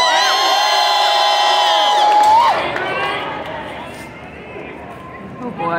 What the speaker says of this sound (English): Crowd, let's let them hear it as they go into this great sword fight!